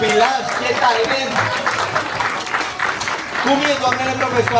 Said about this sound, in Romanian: Aplauze pentru voi, copilași, ce talent!